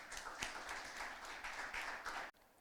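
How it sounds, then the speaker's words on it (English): An audience at a school debate claps steadily for about two seconds, a dense even patter of many hands heard from some distance, cutting off abruptly. "Please give him a round of applause."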